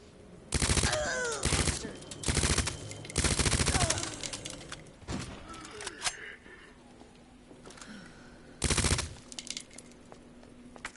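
Submachine gun fire in Resident Evil 2 Remake comes in several loud automatic bursts aimed at a zombie, separated by quieter gaps with faint game sounds.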